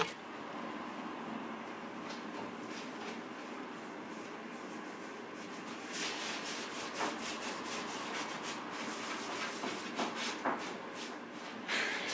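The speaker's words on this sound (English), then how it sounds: "So I'm just putting the wax on this side, the clear wax, just working it into the piece." Clear wax is rubbed into a wooden coffee table with a cloth, a soft continuous scrubbing and rubbing close by, steady throughout with slightly sharper strokes later, no talk.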